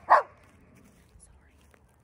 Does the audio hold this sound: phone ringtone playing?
no